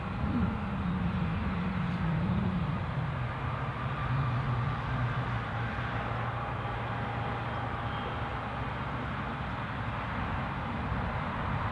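A KLM airliner taxis quickly to its stand at Newcastle Airport, producing a steady, moderately loud jet engine drone with a slowly falling low whine and faint tonal hums, heard alone without speech.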